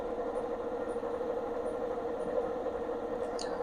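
A generator running at about 780 RPM gives a steady, continuous mechanical drone with an even hum, holding constant throughout without pauses.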